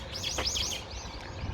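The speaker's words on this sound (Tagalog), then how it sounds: "Kulay green yung ibon." Small green birds at an elementary school giving quick, high, rising and falling chirps in a short burst, moderately near against soft background ambience.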